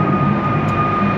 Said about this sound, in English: excuse the plane that's going past